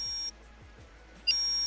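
An alarm on a boat in the video game Stormworks beeps in two steady high-pitched tones, one ending after a moment and another starting again after a short gap, with faint low thumps in between.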